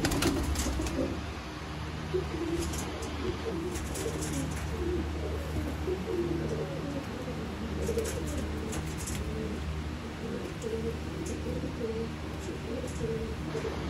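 A pair of Indian Surkha pigeons, the male displaying, coo in low, repeated throaty rolls close by, a steady murmuring backdrop with faint outdoor bird chirps and no clear speech.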